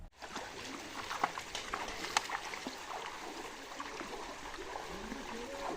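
A shallow hill stream on the Khoiyachara waterfall trail in the rainy season trickles and gurgles softly, with faint splashes and small knocks over a quiet outdoor background.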